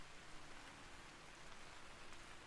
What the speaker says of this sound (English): you can hear how the rain is getting more intense.